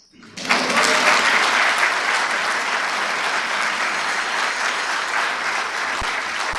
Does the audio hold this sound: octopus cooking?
no